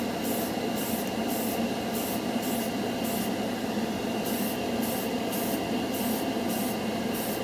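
Model Master Metalizer paint hissing steadily from a spray can onto an old knife, a continuous close airy spray with short rhythmic pulses in the upper hiss throughout.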